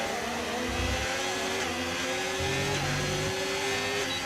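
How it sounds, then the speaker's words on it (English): Formula 1 race car engines in the F1 25 video game howl steadily at high revs as a car approaches, a loud continuous whine with shifting pitch and low rumble underneath. "Oh, hang on, I hear an engine"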